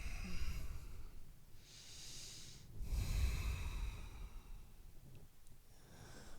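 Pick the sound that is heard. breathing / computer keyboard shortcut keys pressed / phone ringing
breathing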